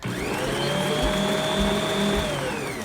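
An electric mixer whirs steadily as it beats butter and eggs into cookie dough, a continuous motor drone that holds level for a few seconds.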